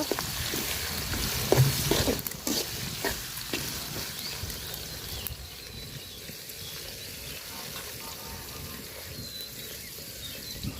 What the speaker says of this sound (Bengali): তেল গরম হয়ে গেছে পেঁয়াজ দিয়ে দিলাম আর দিয়ে দিব যে এলাচ দারচিনি তেজপাতা গরম মশলা দিয়ে একসাথে বাজিয়ে নিব